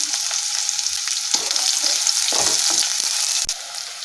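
Finely chopped shallots, cinnamon sticks, cloves and curry leaves fry in hot oil in a pan, a steady bright sizzle throughout with occasional stirring scrapes and clinks, close and loud.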